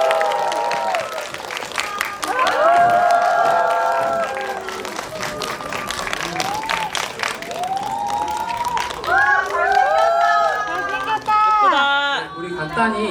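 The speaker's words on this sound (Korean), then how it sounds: "박수로 맞이해 주십시오." An audience applauds and cheers, with excited shrieks rising above steady clapping, as actors Lim Yoon-a and Ahn Bo-hyun walk onstage at a film guest-visit screening event at a World Tower cinema. The crowd noise is loud and sustained throughout.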